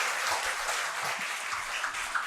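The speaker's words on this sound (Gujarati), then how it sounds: "એકવાર તાળીઓથી સાહેબને વધાવીએ" An audience at a formal event claps to welcome a guest, a steady wash of many hands applauding together at moderate loudness that stays even throughout.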